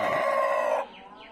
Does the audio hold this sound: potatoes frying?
no